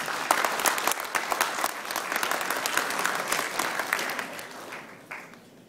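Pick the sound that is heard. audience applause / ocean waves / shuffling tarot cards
audience applause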